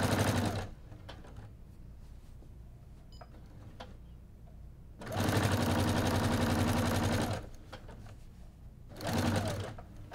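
Stitching quilt binding, a sewing machine runs in three close, steady bursts: one brief at the start, a long middle stretch and a shorter final run, with quiet handling sounds between.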